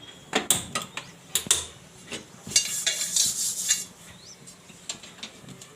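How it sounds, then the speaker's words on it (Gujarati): A metal kadai is set down on a gas stove in a home kitchen. Several sharp metallic clanks and scrapes come close by, followed by a brief rattling shuffle. No talking is heard. "કઢાઈ માંડશું આપણે"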